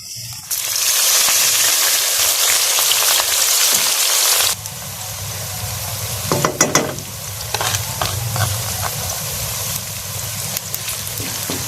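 Loud, steady sizzling of a spice tempering frying in hot ghee for kadhi pakora, with occasional stirring clatter and a brief drop in intensity partway through.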